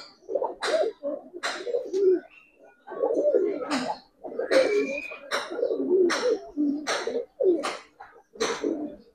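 Racer pigeons cooing repeatedly in a close, steady series of throaty calls, with a few sharper chirps mixed in and no talk.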